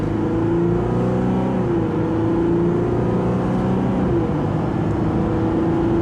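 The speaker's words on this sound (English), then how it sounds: "put my left foot on the brake and bring up the boost and bring up the RPMs to see if I can get just a little bit more power" A Ram 1500 EcoDiesel pickup launches hard from a standstill to 60 mph after brake-boosting, its diesel engine droning steadily loud and close with a rising whir, continuous and unbroken with no talking over it.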